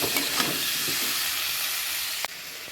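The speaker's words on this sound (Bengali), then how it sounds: "জিরে গুঁড়ো, স্বাদ মতো লবণ দিয়ে ভালো করে তাকে কষিয়ে নেব।" Shukto vegetables with cumin powder and salt sauté in a hot pan, giving a steady close-up sizzle and hiss throughout, with one brief sharp clink near the end.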